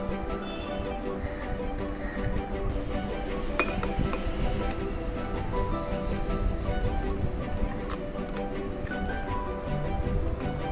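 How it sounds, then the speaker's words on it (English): A metal spoon clinks against a glass or cup while honey is added to a boiled home cough remedy, several light chinks over a steady background hum. "Now I am going to add 2 teaspoons of honey."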